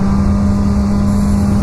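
A 2016 Suzuki GSX-S1000 ABS sportbike engine drones steadily while riding, a loud, constant low hum with a strong fixed tone and wind rush, no change in pitch across the short stretch.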